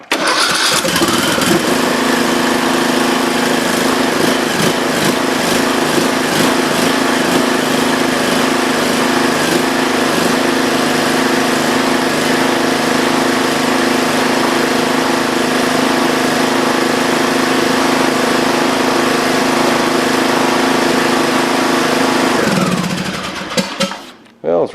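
A zero turn lawn mower engine, just repaired with a carburetor fix, cranks and catches, then runs steadily at a loud, close, rough drone with a faint uneven surge for over twenty seconds before shutting off.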